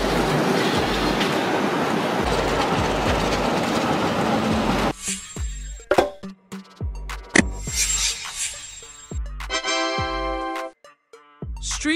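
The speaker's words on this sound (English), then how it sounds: "Suspended railway. An upside-down train hanging in the sky." A suspended railway train hanging beneath its overhead rail rumbles past loudly at first, then gives way to clattering wheel clicks, squeals and metallic knocks as it moves along the track.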